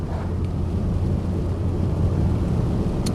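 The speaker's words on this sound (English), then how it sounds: "the rain's really starting to come down now" Heavy rain drums on a truck during a morning drive, a dense continuous wash of noise under a low road rumble with no voices.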